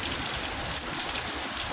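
Steady rain falls in bad weather under a flood warning, a continuous even hiss close by with no voices.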